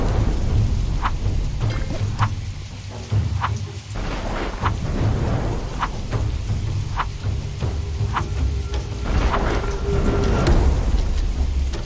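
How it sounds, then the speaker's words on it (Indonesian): Steady rain falls throughout, with rolling thunder rumbling low beneath it and brief sharp crackles breaking through at intervals; no voices. "Tapi apesnya hujan mulai turun."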